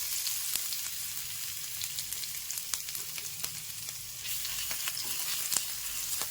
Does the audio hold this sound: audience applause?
no